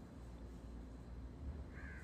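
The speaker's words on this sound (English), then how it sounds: "I don't know what that noise is. are those crows?" A single faint crow caw sounds from a distance near the end, over a low, steady background rumble.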